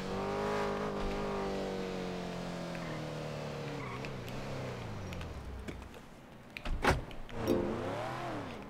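A car being driven forward and parked, its engine droning steadily with a shifting pitch, then sharper bursts and a brief squeal-like sweep near the end as it stops; no talking.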